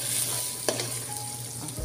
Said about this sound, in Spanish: En una cacerola ponemos a derretir nuestra mantequilla